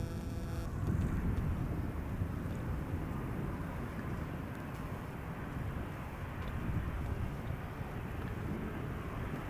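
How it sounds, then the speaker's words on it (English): A KLM Boeing 737-800 airliner arriving at Amsterdam Schiphol from Zurich gives a steady, broad engine rumble and roar that holds at an even, moderate level throughout, with no voices. "KLM 737-800,"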